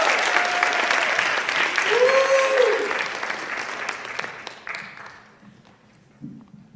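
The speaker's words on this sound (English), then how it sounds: "So let's give a round of applause as I invite Miss Carter up here." Crowd applause at a school poetry slam, loud dense clapping that gradually fades out, joined by a few cheers and a whoop partway through.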